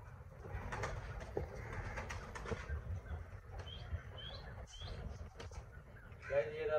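Soft pigeon coos and fluttering wings mix with faint background noise and a distant murmur of voices.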